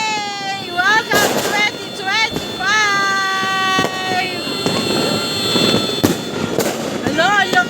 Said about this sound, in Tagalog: Lakas yung paputok nila!